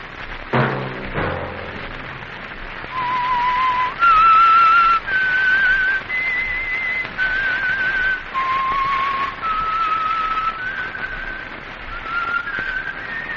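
A lone human whistle carries the eerie theme signal of The Whistler radio mystery program, a slow, wavering melody of sustained notes rising and falling in pitch, clear and prominent over a faint hiss for most of the passage.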